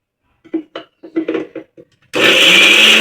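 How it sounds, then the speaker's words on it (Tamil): Ginger and garlic grind in an electric mixer grinder, which starts abruptly with a loud, steady whirring roar after a few soft knocks and clinks of a jar and lid. "இஞ்சி பூண்டு சேர்த்து அரைச்சிடலாம்."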